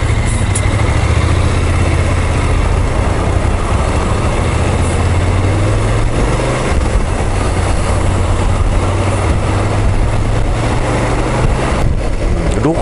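A BMW F850GS motorcycle with a suspected abnormal noise accelerates through about 50 to 60 km/h. Its engine gives a loud, steady drone with a low rumble, smothered by constant roaring wind and road noise throughout.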